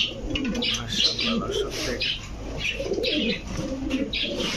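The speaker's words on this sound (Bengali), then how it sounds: "দুটো কবুতর কিন্তু খুবই অ্যাক্টিভ কবুতর" Pigeons, including an imported bloodline pair sold at a pet bird shop, coo and call in repeated soft phrases close by, with chirps and some background voices.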